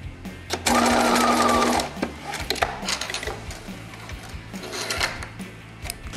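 A sewing machine stitches fringe onto a skirt in one loud, steady whirring run of about a second, close by, followed by quieter handling noises.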